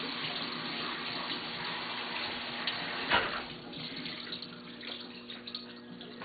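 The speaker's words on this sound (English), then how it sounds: "Now give it one quick rinse using cold water." Cold tap water runs and splashes over cooked pasta noodles in a kitchen sink, a steady close gush with a brief clatter partway through.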